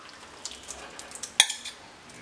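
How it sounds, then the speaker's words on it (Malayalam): Boiled tapioca tipped into a pan of sardines and stirred, giving light scrapes and clinks with a brief louder knock of the spoon against the pan over a faint sizzle. "ഇനി ഇതിലേക്ക് വേവിച്ച് വെച്ചിരിക്കുന്ന കപ്പ ഇട്ട് കൊടുക്കാം."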